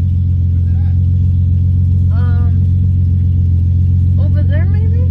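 A classic car's engine rumbles steadily with a deep, constant low drone while a few voices speak over it inside the car.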